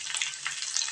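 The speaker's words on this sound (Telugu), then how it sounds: "వెల్లుల్లిపాయలు తీసుకొని ఇలా వేసి కలుపుకుందాం." Crushed garlic dropped into hot oil already crackling with tempering seeds for a ridge gourd chutney, giving a bright, steady hiss and sizzle with quick crackles at close range.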